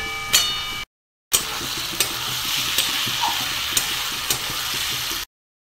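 Ginger and garlic paste frying in a pan on lowered heat, a steady close sizzle with several sharp scraping stirs of a spatula, cut by a brief gap of silence.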